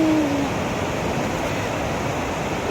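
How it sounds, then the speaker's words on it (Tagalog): Large ocean waves surge steadily onto the shore at a beach resort in Naic, Cavite, a loud continuous roar of surf with no clear breaks. "Ayan na oh, ang alon oh."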